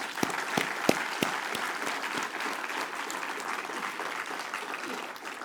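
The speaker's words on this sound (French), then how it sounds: "je vous demande de les applaudir." An audience applauds following a New Year's greetings speech at an ALEFPA association event, with sharp individual claps standing out at first before blending into steady, even clapping for over five seconds.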